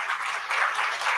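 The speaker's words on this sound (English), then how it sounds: "Ladies and gentlemen, a big round of applause." Brief applause from a conference audience as speakers come on stage, a continuous moderate patter of many hands lasting just over a second.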